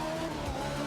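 Rear-wheel drive race car in a driving video game, its engine holding a steady near drone through a short stretch with a faint hint of tire noise, no talk over it.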